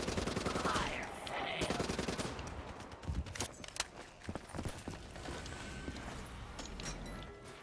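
Rapid weapon fire from a ray gun in Call of Duty Zombies, a dense, loud stream of game shots and effects that stutters into irregular bursts partway through, with busy mechanical game noise throughout.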